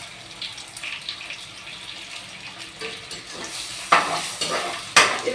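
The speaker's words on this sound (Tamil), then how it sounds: "நான் வந்து 3 முட்டை ஆட் பண்ணிக்கிறேன். முட்டையை ஊற்றிட்டு கொஞ்ச நேரம் அப்படியே இருக்கணும்." Three eggs are poured into a hot pan while cooking pasta, and a steady sizzle builds to louder crackling bursts near the end of the clip.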